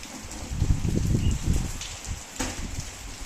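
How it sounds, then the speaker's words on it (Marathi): Rain falls with a dense, rumbling patter, heavier in the first half, then easing into a softer hiss. "आता पाऊस सुरू झाला आहे बघा"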